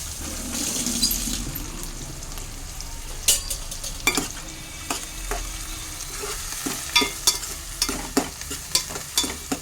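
Oil frying on a pan over a medium flame while preparing mutton curry, a steady sizzle broken by sharp clicks and pops toward the end, close and alone with no voices.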